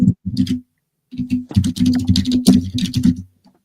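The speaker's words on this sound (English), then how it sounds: "I was hearing the typing and I lost my train of thought" Quick bursts of clicking keys on a computer keyboard, close and fairly loud, come in uneven flurries separated by short pauses.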